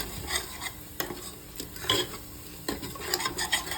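A spoon scrapes and clinks in a pan in short, irregular strokes, mixing spices for aloo matar, while a faint sizzle runs underneath; no voices.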